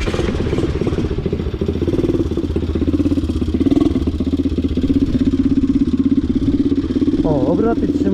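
A Bombardier 125 quad engine idles with a steady close putter and clatter, while someone talks over it throughout.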